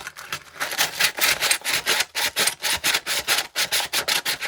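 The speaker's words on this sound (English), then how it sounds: "For the pad as well, I'm hand sanding here." ATV cable-pull front brake drum roughed by hand with 100 grit sandpaper to remove glaze, a close, regular back-and-forth scratching rhythm of about a dozen quick strokes.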